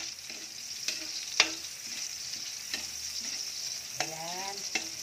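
Onions sizzle steadily in hot oil in a pan while being cooked for adobong isaw, with a few sharp utensil clinks and scrapes against the pan rising above the constant frying hiss.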